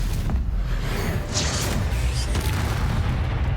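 In Hogwarts Legacy, the Stupefy spell goes off as a dense low booming rumble with whooshing bursts, loud and close, running continuously through the short stretch.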